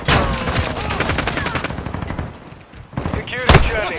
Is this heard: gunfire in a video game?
yes